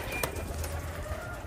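Pigeons cooing from a rooftop loft during a pigeon-flying tournament, soft low coos repeating a few times against faint background hum, distant and quiet.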